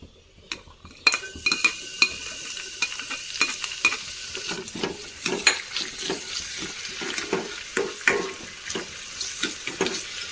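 Hot fried onions pour into a simmering jackfruit seed and prawn curry with a sizzle, followed by repeated stirring clinks and scraping at a moderate, steady pace.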